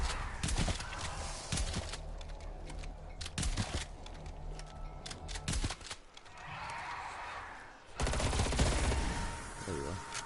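Call of Duty zombies gameplay with bursts of rapid gunfire, sharp clustered shots broken by short pauses, fairly quiet overall with a brief lull midway.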